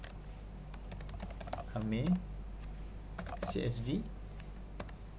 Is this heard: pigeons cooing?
no